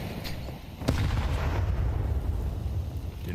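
A grenade bursting in a Counter-Strike 2 match, one sharp blast that leaves a low rumbling tail.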